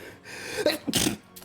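A single short sneeze, a sharp breathy burst preceded by a quick inhale, close and fairly loud.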